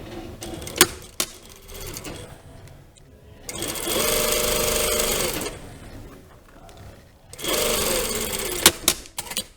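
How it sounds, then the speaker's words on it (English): A domestic sewing machine stitches a lined jacket vent seam in two sustained runs, with brief clicks and handling noises between them, close and fairly loud. "just before we start sewing again, we're just going to understitch along here"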